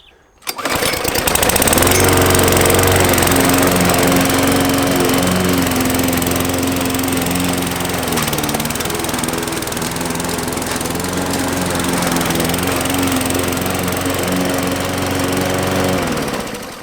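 A petrol self-propelled Ferrex lawn mower from Aldi cuts grass set low at 1 inch, its engine droning loud and steady and close by with a slight wavering strain throughout.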